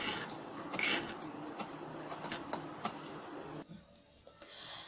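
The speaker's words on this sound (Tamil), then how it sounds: "வறுத்த ரவையை வந்து இப்போ ஜாரில் போட்டு பொடி பண்ணிக்கலாம்." A mixer grinder jar powdering roasted semolina for a rava sweet gives a steady, loud rasping whir, then stops abruptly, leaving a quieter tail.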